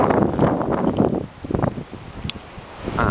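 Gusty wind at the top of a tall tree in the New Forest buffets the microphone, giving loud, uneven rushing with rustling leaves.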